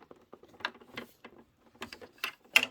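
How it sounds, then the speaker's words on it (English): A screwdriver tightens the walking foot screw on a sewing machine with a few small, close clicks and ticks spaced out over a quiet background, with no talking. "Take your screwdriver and tighten it a little bit more."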